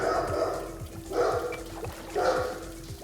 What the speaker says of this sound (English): Oh, my dogs are barking again.